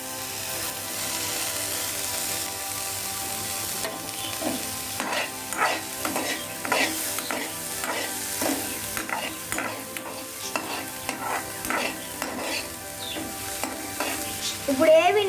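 Curry leaves and tomatoes frying in a pan give a steady sizzle. Rhythmic scraping stirs break through it, growing busier from the middle onward.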